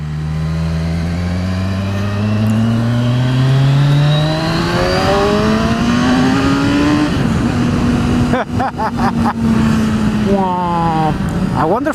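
A Kawasaki Z1000SX motorcycle engine pulls hard, rising in pitch through the gears with sharp shift breaks and rushing wind. Loud and close, with a rider talking over it.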